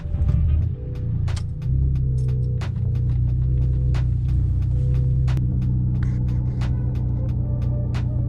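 An Audi A4 engine idles just after startup, a steady low rumble and hum close by, with a few sharp clicks or ticks scattered over it and a brief louder burst at the very start.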